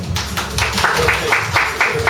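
An audience at a children's arts school concert applauds the winners with a short burst of fairly even, rhythmic clapping in a hall.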